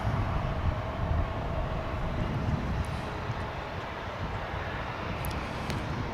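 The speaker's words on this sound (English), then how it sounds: "there it is, a Frontier flight" Distant, steady roar of a Frontier Airlines jet at Dallas/Fort Worth Airport, a broad low rumble holding evenly throughout with no voices.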